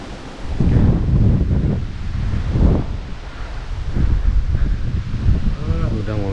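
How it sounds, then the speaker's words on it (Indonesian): Strong gusty wind buffeting the microphone on a limestone mountain summit, loud rumbling surges rising and falling throughout, with a person speaking underneath. "Anginnya cukup kencang, jadi mohon maaf kalau suaranya nanti agak sedikit terganggu."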